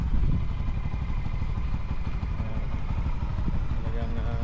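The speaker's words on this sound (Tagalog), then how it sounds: "Ito yung tricycle namin." A tricycle motorcycle engine runs steadily up close with a rattling, clattering idle, and voices murmur faintly underneath.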